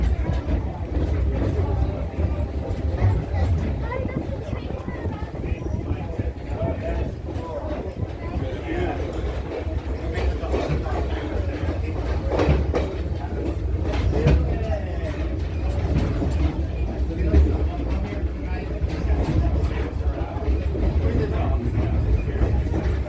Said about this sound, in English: This is the Jim Thorpe Railway with our turntable coming up on the right side of the train.